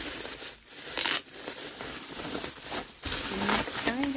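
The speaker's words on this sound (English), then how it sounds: "I'm just cutting through the tape" Packing tape on a cardboard parcel is sliced and torn open, giving repeated rough ripping and crinkling bursts with short pauses between them, close and fairly loud.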